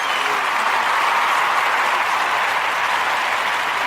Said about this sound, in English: I'm hitting the applause button on that one.